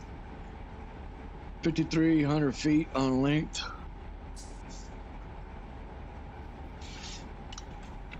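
A little freight train in the Run8 train simulator game, 5,388 feet long and 10,362 tons, running toward Mojave. It makes a steady, low, even rumble throughout, with someone speaking briefly over it.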